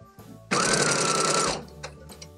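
A sewing machine runs in one steady burst of about a second, stitching a line on an oven mitt up close, then stops, leaving a few faint clicks and handling noises.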